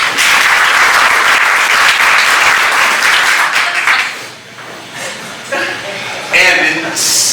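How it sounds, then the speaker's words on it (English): An audience at a theatrical pie-contest performance breaks into loud, sustained applause that fades after a few seconds, then flares briefly again with scattered claps and a few chuckles. "Big round of applause."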